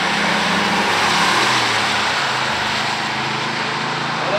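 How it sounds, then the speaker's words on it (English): A 1970 Corvette 350 four-speed and a 1976 Pontiac Firebird 400 race on a drag strip, heard as a distant engine roar spread under broad crowd and wind noise, steady and without clear revving peaks. "Let's see what these cars can do on the drag strip today."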